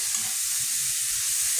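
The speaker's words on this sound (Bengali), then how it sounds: "লো ফ্লেমে ভেজে নিতে হবে।" Grated carrots for gajar ka halwa frying on a low flame, giving a soft, even, steady hiss of sizzling throughout the short stretch.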